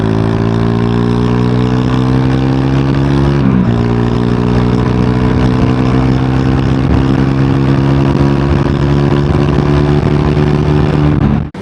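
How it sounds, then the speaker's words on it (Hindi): A Triumph Tracker 400 motorcycle engine pulls hard under acceleration, a loud, steady, close drone whose pitch climbs gradually over about eleven seconds, with a brief dip midway and no talking. "इनिशियल एक्सेलरेशन इस बाइक का बहुत ही ज़बरदस्त है, आप कहीं से भी बाइक को इजीली निकाल सकते हो।"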